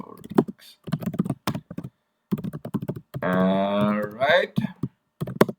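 Keys clatter on a computer keyboard while code is typed for an Advent of Code 2024 puzzle, with short bursts of clicks scattered between spoken remarks and a brief louder tonal sound near the middle.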